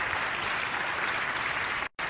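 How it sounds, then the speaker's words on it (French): Audience applause for award winners at a regional Talents des Cités ceremony, a steady, dense clapping that fills the clip before cutting off abruptly near the end. "Vous pouvez les applaudir encore une fois si vous le voulez bien."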